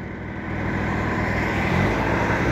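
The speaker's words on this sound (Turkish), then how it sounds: "Araba geliyor lan." A car passing on a road, heard as a steady broadband roar that swells slightly louder and stays close throughout, with no speech.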